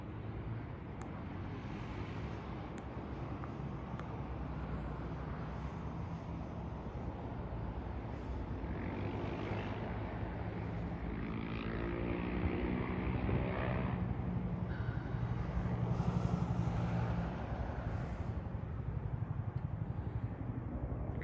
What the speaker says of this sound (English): Oh, there's the chopper.